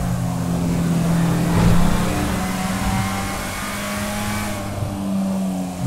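A Suzuki Swift Sport driven at high speed along a highway in GTA 5 holds a steady, loud engine drone with a brief swell of revving midway, continuous and close, with no talk.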